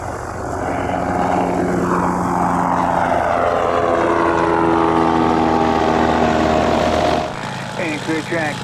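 A propeller airplane takes off at Spirit of St. Louis Airport, its loud engine drone rising in pitch and building before cutting off sharply near the end.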